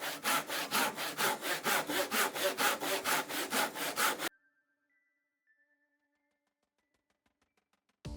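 A tenon saw cuts through wood for a halving joint in quick, steady back-and-forth strokes, about a dozen close rasping passes. Then it stops and near silence follows, with a few faint clicks.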